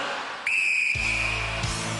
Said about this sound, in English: Philip, you will go on my first whistle